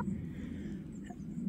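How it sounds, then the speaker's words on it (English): Chickens trailing walkers across a Highland field, a steady low murmur of soft clucks under light outdoor noise, close by and continuous for the whole stretch. "we seem to have picked up a posse of chickens who are following us"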